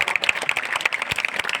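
Audience claps at a kavi sammelan poetry recital in Kurawar, a brief burst of uneven, fairly close hand claps from a small crowd.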